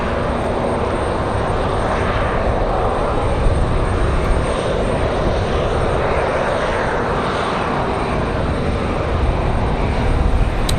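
A Southwest Airlines jet on its way in from Chicago roars loud and steady as it lands in strong wind at Raleigh-Durham airport, a broad rushing engine noise that goes on with no break.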